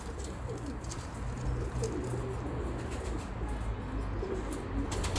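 Pigeons cooing steadily in a loft or coop, a soft layered murmur of many birds close by, with occasional bursts of wing flapping and faint chirps over the dense cooing.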